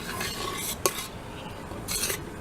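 Jasmine flower petals being stirred in a pot for jelly, a soft swishing with a single sharp clink of the spoon against the pot, close and quiet.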